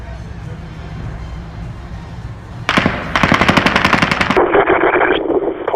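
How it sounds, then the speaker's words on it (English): Rapid rifle gunfire echoes through a Las Vegas hotel at Mandalay Bay, loud bursts of fast repeated shots following a low background rumble, with crowd noise beneath. "Someone's firing a gun up here."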